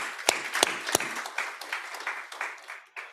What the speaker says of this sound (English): a big round of applause again for Zara.